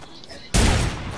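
Video game gunfire erupts suddenly after a quiet moment, a loud, dense burst of shots continuing to the end.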